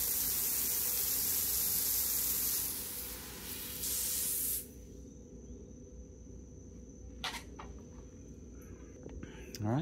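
A steady, loud hiss of water spraying from a Flexzilla garden hose on an Eley free-standing reel runs for several seconds, then cuts off, leaving quieter background noise with a couple of brief bursts.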